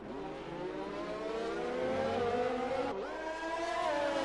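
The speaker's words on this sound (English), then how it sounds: "But I can hear cars coming down" Race cars in a racing video game on a US circuit roar past one after another, engines screaming at high pitch with rising and falling tones, loud and continuous with no talk over them.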